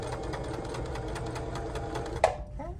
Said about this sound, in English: So make sure before you sew over it that it's all nice and flat.